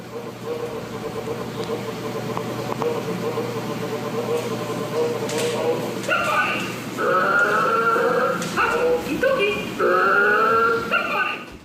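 A toy inside a toy box gives off growling and snarling noises, rough rising snarls and yelping tones growing louder in the second half over a low background hum, with talk in the scene.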